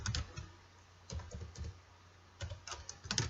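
A folder name is typed on a computer keyboard in quick bursts of close, crisp key clicks, separated by short pauses in a quiet room.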